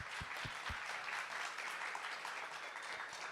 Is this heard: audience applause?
yes